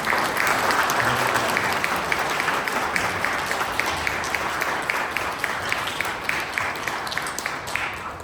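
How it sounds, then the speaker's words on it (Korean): An audience breaks into sustained applause as two honorees are welcomed onto the stage at a company all-staff meeting, dense clapping filling the room steadily from start to finish. "큰 박수."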